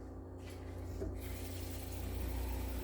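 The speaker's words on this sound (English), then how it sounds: "I'm gonna go ahead and put 1/4 of a cup of water in there." Water is poured into a pot of red beans, a quarter cup in all, a soft continuous trickle and gurgle heard close up over a low steady background hum, with no talking.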